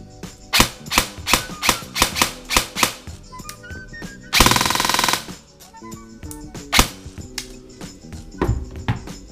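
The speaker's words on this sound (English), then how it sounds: "I'm going to go ahead and do a little bit of dry firing to do a before and after comparison" An ARES Amoeba AM013 airsoft rifle fitted with an ICS 3000 turbo motor dry fires in close, loud bursts of rapid mechanical clacks, with a longer continuous whirring burst in the middle and scattered single shots.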